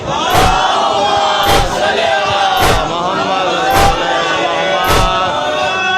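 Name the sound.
crowd loudly reciting salawat in a procession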